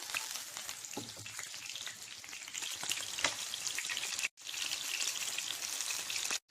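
Batter-coated fish fries crisply in hot oil, giving a steady, dense sizzle with fine crackling that runs close and even, with a brief break near the end.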